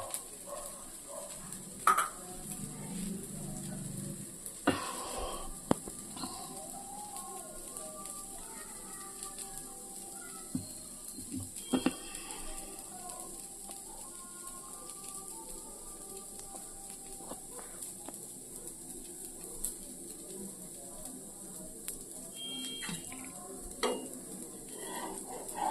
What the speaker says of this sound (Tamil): ஒரு தோசை ஊற்றி வச்சுங்க. இப்படி மொருவலாக இருக்க பார்த்தீங்களா?